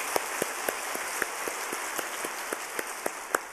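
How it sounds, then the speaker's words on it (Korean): A church congregation at a Wednesday service applauding a guest pastor: a sparse, fairly distant patter of hand claps at a loose, irregular rhythm over a quiet hall. "오늘 귀한 은혜의 말씀 전해주신 우리 강사 목사님께 다시 한번 감사의 박수 하겠습니다"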